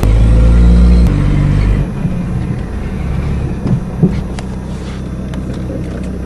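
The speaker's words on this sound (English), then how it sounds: "The turbo diesel van is working great with that VW motor." A turbo diesel van fitted with a VW engine runs with a loud, steady low rumble that drops slightly in level after the first couple of seconds, with a few faint knocks over the drone and no talking.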